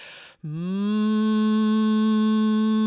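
A deep, steady vocal toning hum from the diaphragm starts after a short breath and holds, rich with overtones, loud and close.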